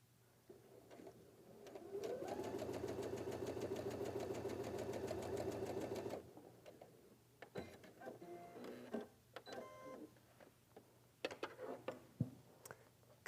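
A sewing machine stitches quilt patches for a sawtooth and triangle square block in a steady, continuous mechanical run of about four seconds, then stops, leaving scattered handling clicks and rustles.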